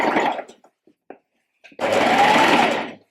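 A home sewing machine stitches a shirred back top, running in two close bursts of fast, whirring needle hum separated by a pause filled with faint fabric handling clicks.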